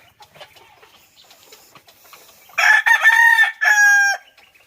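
A rooster crows loudly and close by in a small backyard gamefowl pen, one drawn-out call after soft clucks and scattered bird noises.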